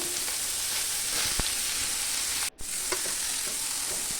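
Cabbage tossed into a hot pan with dry red chillies and a bay leaf, giving a steady close sizzle with stirring scrapes throughout and a brief gap in the middle.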